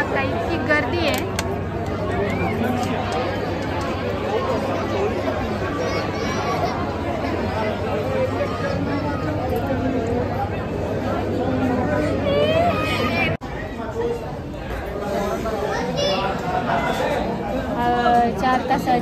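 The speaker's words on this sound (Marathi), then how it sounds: "पण तुम्ही पाहू शकता इतकी गर्दी आहे" Pilgrims queuing for darshan at Trimbakeshwar temple fill the air with dense, continuous crowd babble and overlapping voices close by, with a steady low hum underneath throughout.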